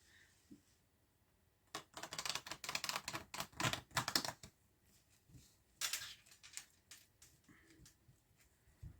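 Tarot cards being shuffled by hand, heard as two bursts of quick, crisp papery clicks and riffles, the first lasting a few seconds and the second briefly, in an otherwise quiet room.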